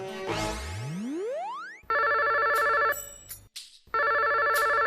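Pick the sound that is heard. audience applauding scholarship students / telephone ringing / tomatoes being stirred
telephone ringing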